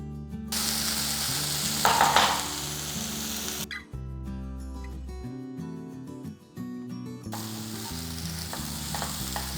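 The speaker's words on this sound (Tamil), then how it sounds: "பாருங்கள், வெங்காயம் எல்லாமே நல்லா வதங்கிட்டுருக்கு." Onions sauté with green chillies and a pinch of red chilli powder for paneer bhurji. A loud, close, steady sizzle with stirring scrapes fills the start and end, interrupted in the middle by a stretch of music.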